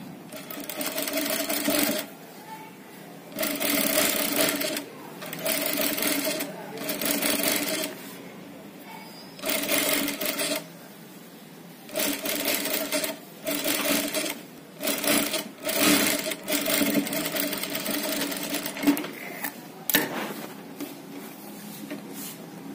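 A sewing machine stitches a polyester sleeve neckline in repeated bursts of rapid, close mechanical whirring, separated by short pauses.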